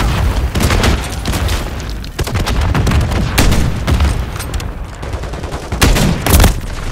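Dense gunfire and booming blasts in a Call of Duty MW3 multiplayer match on the Rust map, loud close bursts of rapid shots in an almost unbroken stream.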